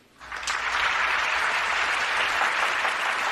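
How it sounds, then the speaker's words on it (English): A crowd bursts into loud, sustained applause just after a life sentence without parole is announced. The clapping swells quickly and holds steady throughout. "It is no reason to applaud."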